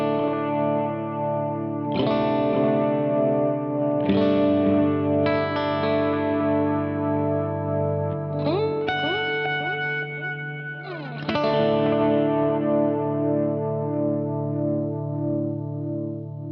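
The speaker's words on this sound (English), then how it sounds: "first one I have is a pretty heavy D-bucket analog delay" An electric guitar runs through a heavy D-bucket analog delay pedal in slow volume swells. Each chord rises gently and then trails off into dense, repeating echoes that wash together, played alone with no voices.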